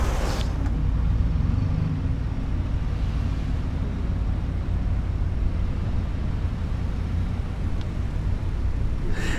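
Steady low rumble of a car running nearby fills the clip, even and loud, with a couple of faint knocks near the start and end.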